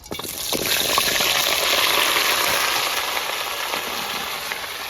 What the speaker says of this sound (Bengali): ফুলকপি আর আলু একসঙ্গে আমি ভেজে নেবো হালকা করে